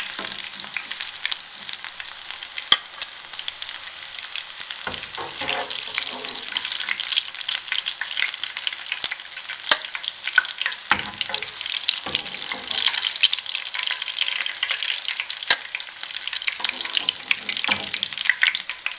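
Aloo bread rolls deep frying in oil, a continuous bright crackling sizzle that holds steady near the pan, with a few soft knocks and bubbling surges and no talk.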